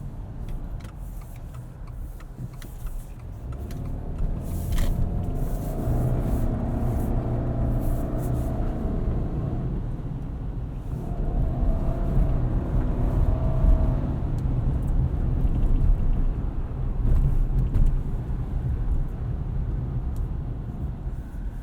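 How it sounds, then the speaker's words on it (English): A 2022 Subaru Outback Wilderness drives on very light snow: a steady, close cabin rumble of engine and tires runs throughout, with gentle swells in road noise and no talking. "there is your very, very light snow drive in the Subaru Outback Wilderness"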